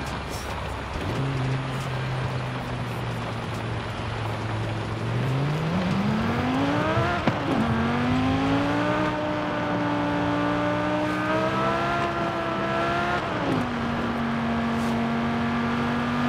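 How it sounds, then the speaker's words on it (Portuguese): An Audi engine in the racing game Forza Horizon 5 idles, then revs and climbs through the gears with rising, steady tonal drone, close and continuous without talk. "Solta o som e ouve o barulho do motor."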